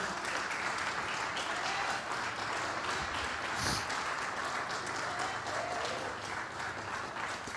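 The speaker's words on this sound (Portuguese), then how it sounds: "Aplauda Jesus, por favor." A church congregation claps in worship, a broad sustained wash of applause filling the room, with a brief louder burst midway and faint voices underneath.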